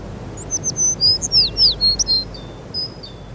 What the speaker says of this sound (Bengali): চেনা অচেনা হরেক রকম পাখির ডাক মুগ্ধ করে পর্যটকদের।